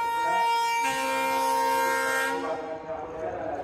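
Locomotive horn of a Pune Express train sounding at a station in the rain, a loud sustained multi-tone blast lasting a few seconds before tapering off, with rain and background noise around it.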